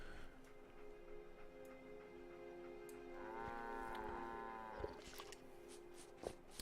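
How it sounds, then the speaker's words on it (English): Cattle mooing in the Fallout 4 video game, a drawn-out low bellow near the middle of the clip over a steady ambient game backdrop with faint ticking sounds. "I can hear all these animals, dog meat and cows right next to me."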